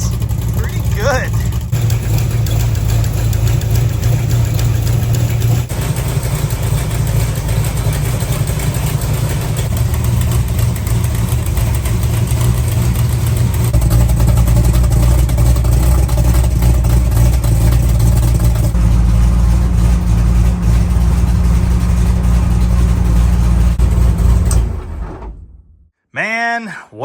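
A 1966 Plymouth Barracuda race car engine idles steadily and loudly with a lean idle mixture, a continuous low rumble lasting over twenty seconds before cutting off near the end, with faint voices in the background.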